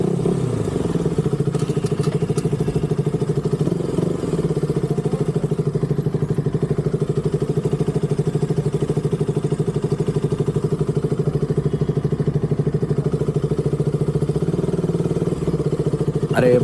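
Motorcycle engine idling steadily at a petrol station, a close, continuous mid-pitched drone with faint clatter, running on without a break.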